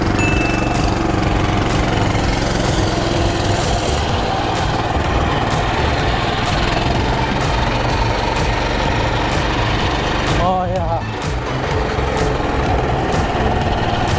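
A small mini bike engine runs after being cleared of a hydro lock, a loud, rough, constant close-up buzzing clatter that carries on throughout, with a brief dip in the middle and no talking.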